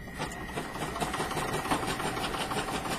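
An embroidery machine tacks heat transfer vinyl onto a bag held in the hoop, giving a steady, fast, buzzing stitch rhythm at low to moderate level, with no talking.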